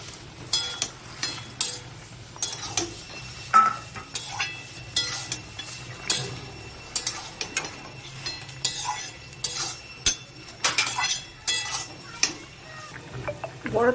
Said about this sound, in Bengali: এবার আমি বড়াগুলো দিয়ে দিচ্ছি।